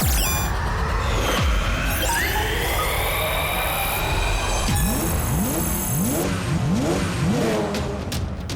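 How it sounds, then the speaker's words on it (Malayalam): The cartoon Super Speedo car drives out with a loud, continuous engine roar that rises in pitch while revving, joined by whooshing, squealing synthetic effects and repeated rising sweeps, with no talk. "വേഗം, അതിവേഗം R7 നിന്ന് പുറത്തേക്ക് വരട്ടെ സൂപ്പർ സ്പീഡോ കാർ"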